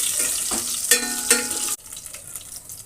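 Slit green chilies fry in oil for tomato rasam, a loud, bright sizzle with a few stirring scrapes that suddenly drops away to a much softer hiss partway through.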